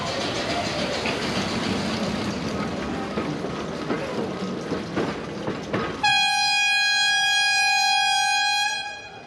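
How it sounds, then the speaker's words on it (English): A lone train engine with no carriages rumbles past nearby in Rockhampton, Queensland, then blasts a loud, sustained multi-tone air horn that fades as it ends; a voice is faintly present during the rumble. "they don't still have the steam whistle, it's just an air horn"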